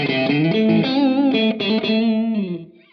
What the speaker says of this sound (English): The chime is emulating the brilliant channel of a VOX AC30, and it sounds something like this